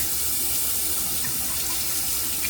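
Water runs steadily from a tap to wet a razor before a menthol shave, a close, continuous hissing splash with no pauses and no speech.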